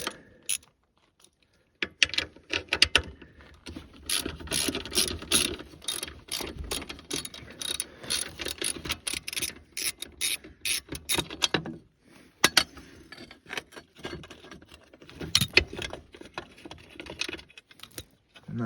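A hand ratchet backs bolts out of the skid plate on a 1999 Honda Fourtrax TRX300 4x4 ATV, with long runs of rapid, loud metallic clicking close by, broken by brief pauses between bursts.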